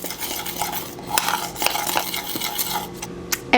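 A spoon stirs dry cookie ingredients with a half teaspoon of kosher salt in a bowl for pumpkin chocolate chip cookies, giving steady soft scraping and occasional light clinks of utensil against the bowl, close and without speech.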